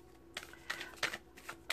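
Tarot cards being shuffled give a series of quick, crisp riffling clicks in short bursts, close and fairly quiet over a faint background hum.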